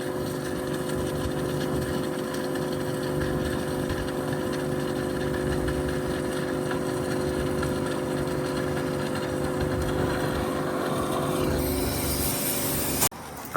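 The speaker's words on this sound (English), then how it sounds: "All right, cold water in the exhaust test. Will it sound different?" A car's exhaust with cold water poured inside, running steadily at idle as a close, continuous engine rumble with a slight watery burble, ending in a brief sharp burst near the end.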